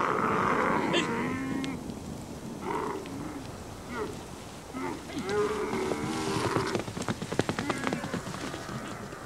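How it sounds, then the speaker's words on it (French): Camels grazing in a desert valley near Agadez, Niger, giving low grumbling moans and gurgling calls close by, with rustling and shuffling over a steady outdoor background. "on va en profiter pour faire paître les chameaux qui se sont déjà attelés à la tâche"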